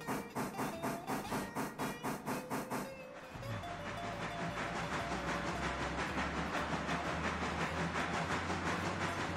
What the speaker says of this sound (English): catch up with that train